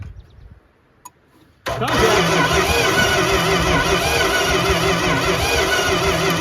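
A 1971 Plymouth Fury V8, abandoned for over twenty years, cranks briefly after a quiet moment, then catches and runs loudly and steadily close by with an uneven, rough idle from one bad cylinder.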